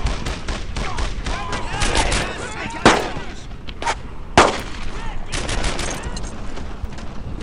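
Rapid machine gun fire in the World War II shooter Brothers In Arms: Earned In Blood, with dense bursts, two sharp louder shots and a voice talking over the clatter.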